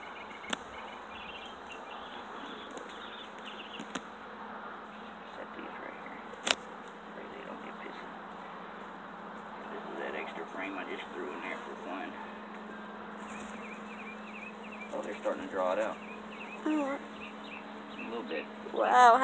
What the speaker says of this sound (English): First time I've had this many bees around me.